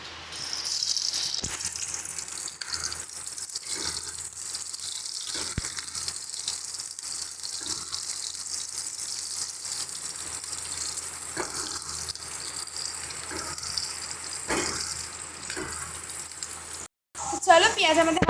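Sliced onions tempering in hot oil in a wok, a steady hissing sizzle with rattling spatters throughout, loud and close, with a brief cut near the end.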